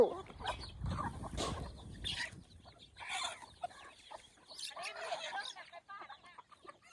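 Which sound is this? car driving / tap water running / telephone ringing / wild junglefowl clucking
wild junglefowl clucking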